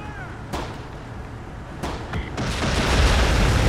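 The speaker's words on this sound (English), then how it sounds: "A direct hit on the tank" A tank shell strikes an enemy tank in the Close Combat war game: sharp booming impacts with a short crack, then a swelling rumble that builds toward the end, with no voices.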